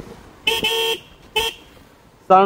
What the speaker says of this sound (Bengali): আমি রিসেন্টলি আমার বাইকের হর্ন চেঞ্জ করেছি। সিএম মোটর যে হর্নগুলো দেয় ঢাকা শহরে ব্যবহার করার মতো না, তাই আমি এখানে দুটো হর্ন ইনস্টল করেছি।